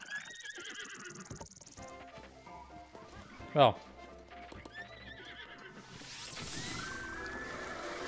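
Horse in Breath of the Wild lets out a neigh amid game effects and hooves, with a sharp loud hit midway and a rising whoosh near the end; a person speaks briefly over it.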